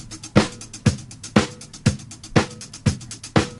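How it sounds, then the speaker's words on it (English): A disco drum sample plays a steady four-on-the-floor pattern, with a punchy kick and crisp hi-hats between the beats, up close and clear with no voices. "I have this disco sample and layered that on top of it."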